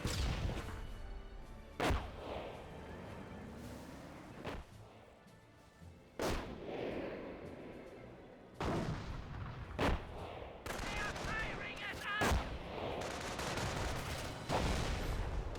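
Distant gunfire and sharp artillery impacts from a Company of Heroes 1 battle between US and Panzer Elite forces, several loud cracking hits spaced through a steady rumbling backdrop.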